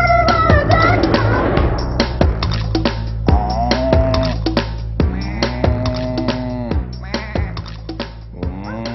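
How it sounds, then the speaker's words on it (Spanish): A cow moos repeatedly in long, drawn-out calls over a steady low rhythmic throb, loud and close, with no talking. "La vaca."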